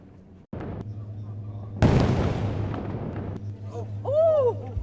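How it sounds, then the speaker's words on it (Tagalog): Israeli airstrike explosions hitting a Hezbollah camp in Lebanon: a deep booming blast followed by a long, loud rumbling roar and debris noise, then lingering low rumble with faint distant voices and a whistling sound near the end. "Malaking kampo ng Hezbollah wasak matapos pasabugin ng Israel Defense Force."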